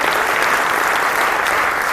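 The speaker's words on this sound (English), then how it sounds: "Give her a round of applause." A big audience at the 2018 KJLH Men's Empowerment Summit breaks into sustained applause, dense steady clapping filling the room at an even level throughout, with no voices rising above it.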